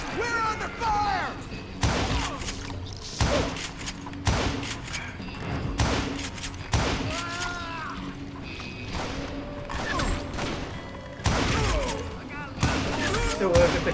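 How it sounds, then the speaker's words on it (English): Repeated bursts of gunfire and heavy shots ring out in the Western shooter Call of Juarez: Gunslinger, loud intermittent volleys spaced a second or two apart with talking in between. "Who's shooting at you? We're under fire!"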